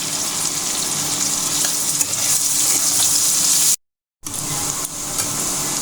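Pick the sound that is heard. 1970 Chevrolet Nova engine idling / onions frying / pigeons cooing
onions frying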